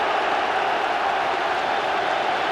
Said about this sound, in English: Well, the Celtic fans applauding that.